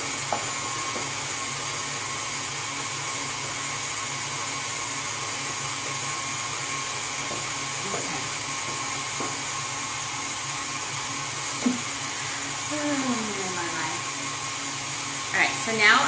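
An electric hand mixer whirs steadily through 5 ounces of softened cream cheese for a keto strawberry frosting, a continuous mid-level motor hum with a few brief scraping sounds near the end.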